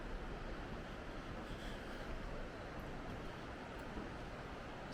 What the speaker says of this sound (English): You can really hear that gorge water coming through at the moment.